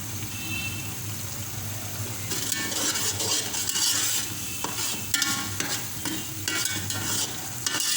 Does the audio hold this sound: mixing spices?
yes